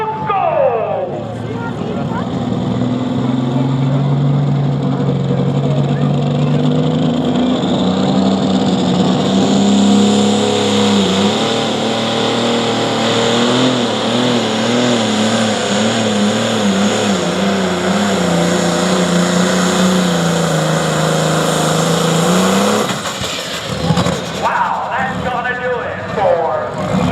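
A pulling truck with a Shipley Pro Stock engine roars down the track at a truck and tractor pull in Alliance, Ohio, a loud, sustained howl that climbs and wavers in pitch for over twenty seconds before cutting off, with an announcer talking over it.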